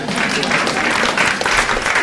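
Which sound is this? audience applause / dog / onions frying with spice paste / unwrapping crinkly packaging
audience applause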